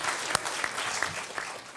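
Audience applause at a community gathering before a conversation between journalists on truth in journalism: a short burst of steady, dense clapping from a crowd, moderately loud throughout with no voices.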